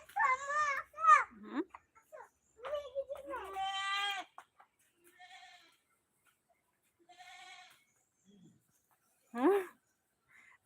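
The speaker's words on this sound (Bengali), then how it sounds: "ছাগল দাঁড়া দাঁড়া খাইতেছে" A goat bleats several times in short, wavering cries near a lemon orchard, with gaps of quiet between calls and a person speaking briefly.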